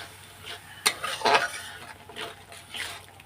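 A spatula stirs peas and spices frying in a pan for a potato curry, making a few close scraping and clinking strokes against the metal in a short burst, with no talking.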